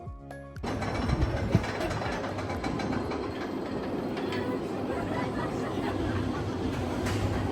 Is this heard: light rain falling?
no